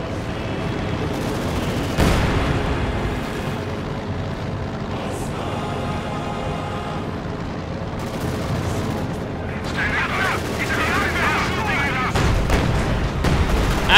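Gunfire and artillery from the Company of Heroes 2 strategy game, with mortars and Sturmovik aircraft, form a dense, loud battle din of repeated shots and booms that continues throughout.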